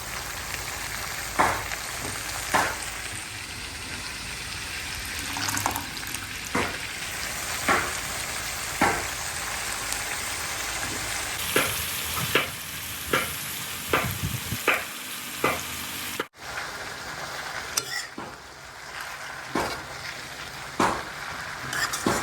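Potatoes stir-fried with fenugreek leaves in a pan, a steady sizzle running throughout with repeated sharp scraping strokes of a spatula at an uneven rhythm, close and moderately loud, no voices.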